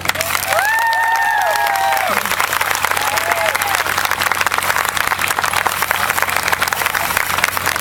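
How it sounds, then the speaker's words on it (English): A crowd claps and cheers for a cancer survivor at a Relay for Life event. The applause is loud and sustained, with brief whistles near the start. "Big round of applause for Erica and for all of the cancer survivors here today."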